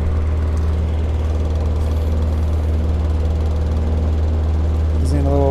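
A pulse motor runs at about 1300 to 1400 RPM on a solid-state relay with speed control, giving a loud steady low hum and rapid pulsing drone throughout, with a short extra rattle near the end.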